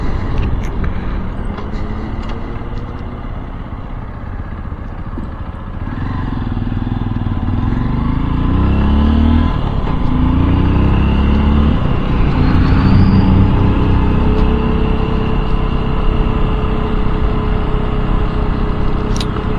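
A Honda XR150L motorcycle rides along at night, its steady engine drone rising and falling through gear changes and throttle shifts, loud and close throughout with wind rush and no talk.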